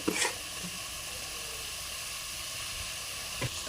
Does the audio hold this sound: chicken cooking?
yes